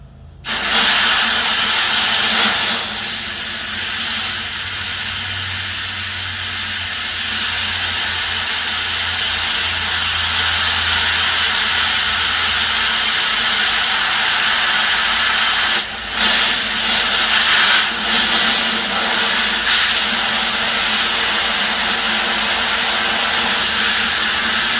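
A lawn mower engine runs on choke with a loud, steady, hissing roar that wavers slightly and dips briefly a few times.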